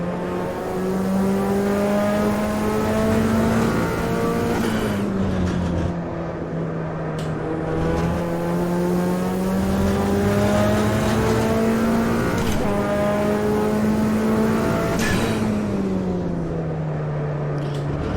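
A Mazda MX-5 driven hard on a race track, its engine loud and close with steady revving and shifting pitch as it brakes hard and accelerates again, tires occasionally squealing, with no other sound over it.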